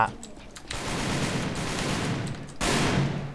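An M14 battle rifle fired in the shooter game AVA, heard as sustained, loud, broadband bursts of gunfire with a short lull and a strong new burst near the end.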